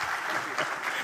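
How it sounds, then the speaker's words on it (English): An audience applauds at a public event, dense steady clapping that fills the whole moment at a moderate distance with no talk over it. "Let's give them one more round of applause."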